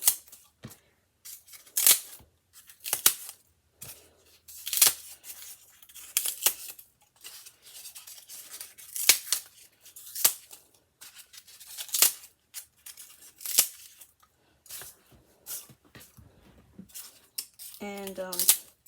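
Scissors repeatedly snipping pieces from a bag of material for fake popcorn, a steady series of close, crisp cuts with short pauses and rustling between them.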